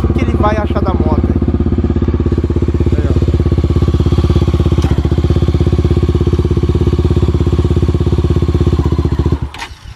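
A Honda XRE 340cc motorcycle engine runs close by with a loud, steady, throbbing idle that holds for nearly ten seconds before cutting out abruptly, with brief talk at the start.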